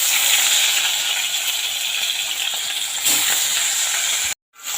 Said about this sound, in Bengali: পিস নিয়েছি, দিয়ে লবণ হলুদ ভালো করে মাখিয়ে নিয়েছি। এরপর আমি ভেজে নেব।